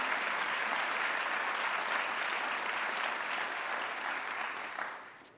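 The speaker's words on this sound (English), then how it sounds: "You applaud me, I'm applauding you." Dense, sustained audience applause at a university stakeholder address, steady and full for about five seconds before tapering off quickly at the end.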